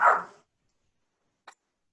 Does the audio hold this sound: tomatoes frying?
no